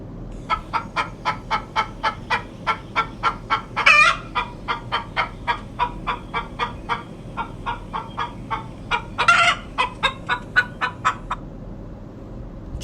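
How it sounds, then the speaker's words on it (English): A recording of chicks plays: a long string of evenly spaced peeps and clucks repeats steadily, with two louder bursts partway through and no one speaking. "Chick chirping sound"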